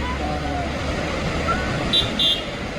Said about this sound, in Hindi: पीछे मत हो ना बेटा, गाड़ी आ रही।